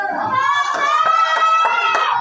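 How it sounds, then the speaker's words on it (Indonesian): A class clapping their hands in a steady rhythm, about every third of a second, under continuous chanting or sung voices. "Tepuk tangan."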